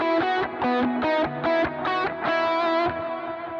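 A distorted electric lead guitar plays a melodic worship-style line built around triad shapes, with sustained notes in a steady, evenly spaced phrase, loud and up close with no talking.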